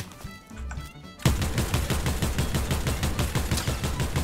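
Rapid gunfire in the Fortnite video game erupts after a short quiet lead-in, a dense, steady stream of close, loud automatic shots continuing to the end.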